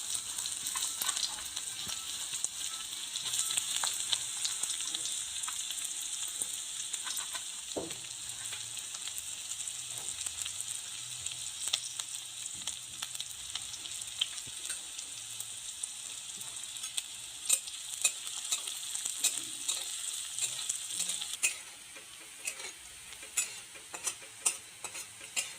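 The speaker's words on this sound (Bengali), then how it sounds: "তেল গরম হয়ে গেছে, দিয়ে দিলাম পেঁয়াজ।" Sliced onions sizzle and fry in hot mustard oil in a kadai pan over a gas flame, a steady crackling hiss that holds for the whole stretch, with occasional stirring clatter and a brief drop in level near the end.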